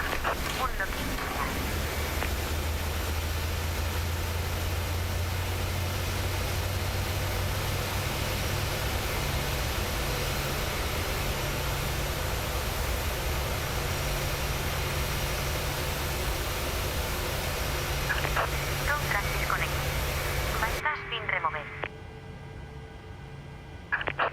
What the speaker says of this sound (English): does seem really loud outside the plane. Louder than usual.